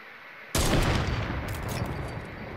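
Burst of gunfire in an online shooter video game, a sudden loud volley that starts abruptly and rattles on steadily to the end.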